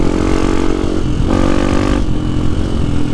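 Dirt bike motorcycles riding a trail in Pernambuco during a huge trail event with about 1,600 bikes, loud close engines revving and shifting pitch continuously, with one bike's note rising and changing over several seconds.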